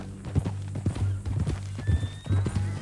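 Hooves of a horse in Red Dead Redemption 2 clip-clop at a slow walk in a steady, moderately close rhythm, under a low hum with faint ambient tones.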